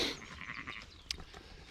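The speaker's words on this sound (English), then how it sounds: "So the sheep are all happy." Sheep on a small farm bleat in a short, close burst, a wavering nasal call that rises and fades over under two seconds, with no talk over it.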